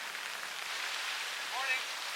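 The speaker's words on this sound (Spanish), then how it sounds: "No para de llover" Steady rain falls on a sailboat at anchor, a continuous soft broadband patter with a brief faint chirp midway and no talk.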